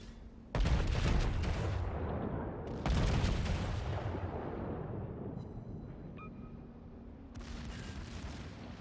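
In the World of Warships game, the battleship ARP Kongo's secondary guns fire in two heavy booming volleys early on, each trailing into a long rumbling decay, followed by faint game interface tones.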